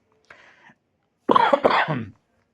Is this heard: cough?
yes